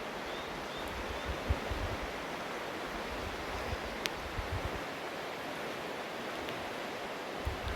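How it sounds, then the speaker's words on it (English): Steady rushing water fills the scene, a constant broadband wash of flowing creek with faint wind, no voices. "here's the creek from this side"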